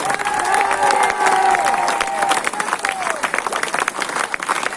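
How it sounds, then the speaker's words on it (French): An audience at a church event applauds and cheers in a dense, continuous wash of clapping, with voices and shouts rising over it and a few whistle-like tones early on. "Continuez d'applaudir."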